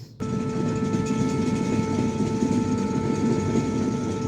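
Panchagarh Express passenger train running from Dhaka toward northern Bangladesh, heard from aboard as a loud, steady rumble with a droning hum and faint rail clatter, continuous throughout with no talk.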